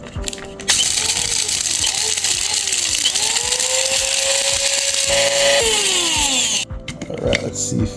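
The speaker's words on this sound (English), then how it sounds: "We'll just grind this up." Pimento berries and spices are ground in a loud electric grinder that whines steadily for several seconds, its motor pitch shifting as the load changes, then cuts off.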